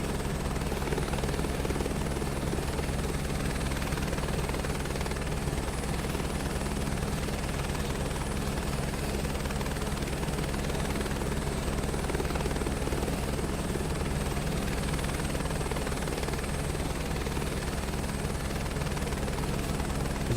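Helicopter in a flight simulator game, a steady loud rotor chop and engine whine droning continuously at an even level throughout, with no talking.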